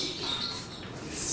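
Racing pigeons in a training box make faint chirping and cooing sounds, heard close up over a soft background hiss.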